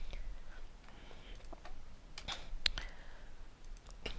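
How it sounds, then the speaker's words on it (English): A computer keyboard is typed on while a formula is entered into a spreadsheet during a lecture, producing sparse, faint clicks over a low background hiss with no talking. "I'm just going to type over here the formula that we would use."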